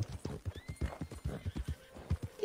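Horse hooves clip-clopping in the Red Dead Online video game near a train platform, a steady run of about a dozen close, thudding hoofbeats with a faint whinny, heard alone without talk.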